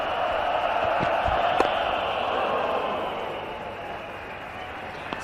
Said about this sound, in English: The Mumbai crowd really getting behind Zahir Khan.